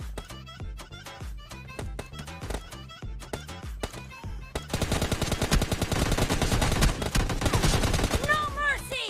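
Rapid gunfire from a mobile shooter game, first as separate sharp single shots in a steady rhythm, then a dense continuous automatic burst for the second half, loud and close with no talk over it.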